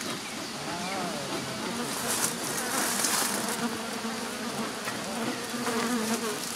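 Honey bees swarm and buzz densely around a beehive, a loud continuous drone of many insects close by with rising and falling whines, and a person speaking briefly over it.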